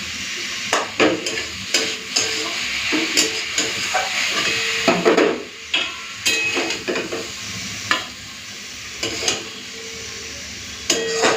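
Malabar spinach sizzles in a hot pan while a utensil stirs and scrapes in irregular bursts, with soft hissing between strokes.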